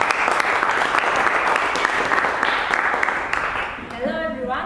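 An audience at a Toastmasters public speaking meeting applauds with dense, steady clapping that fades toward the end as a voice begins speaking.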